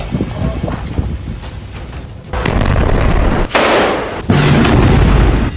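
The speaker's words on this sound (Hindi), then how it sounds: "हिजबुल्लाह ने इजरायल के ठिकानों पर 4 बुरकान मिसाइलें दागी" Loud combat noise from Burkan missile strikes and gunfire on a military post, with a continuous roaring barrage that rises into sustained heavier blasts and rumble, several abrupt surges in intensity and no speech.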